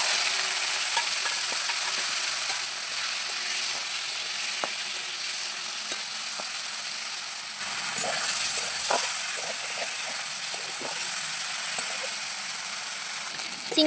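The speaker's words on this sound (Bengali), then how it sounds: "দিয়ে দিচ্ছি চিংড়ি ভাজার জন্য সর্ষের তেল" Prawns sizzle in hot mustard oil seasoned with salt and turmeric, a steady broadband hiss with scattered spatters and clicks of stirring throughout, no voices.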